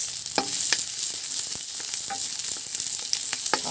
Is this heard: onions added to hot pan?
yes